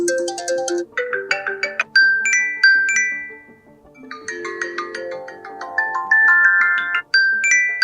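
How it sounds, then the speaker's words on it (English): Ringtone previews on a 2024 Apple iPad 13-inch, bright electronic chimes and melodic tone sequences playing one after another, clear and close with short pauses between tones. "Whenever you click on a tone, you hear a preview."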